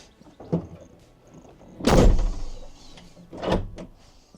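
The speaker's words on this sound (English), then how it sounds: "So now we test the door." A Mercedes Sprinter van door fitted with a deadlock is opened and shut, giving a sharp latch click, a heavy slam with a low thump, and another solid clunk a moment later, close by with no talking.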